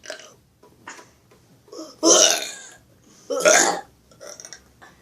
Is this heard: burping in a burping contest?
yes